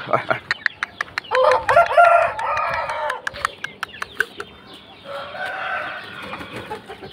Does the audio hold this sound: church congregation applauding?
no